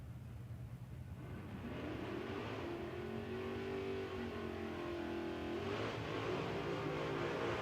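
No-prep drag race cars accelerating at Kil-Kare Dragway, a rumbling engine roar that swells and holds with a rising revving tone, heard from a distance and fairly faint.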